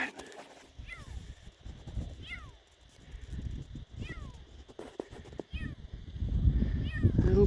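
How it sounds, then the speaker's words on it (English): Feral cat meowing in the wilderness along the Mavora River track, several plaintive mews repeated every second or so at moderate distance, with footsteps and rustling beneath and people talking nearby. "That sounds like a kitty cat."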